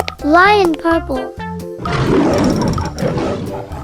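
A cartoon lion roars in a children's animal video game, following a voiced announcement, producing a broad rumbling growl that lasts a couple of seconds and then fades.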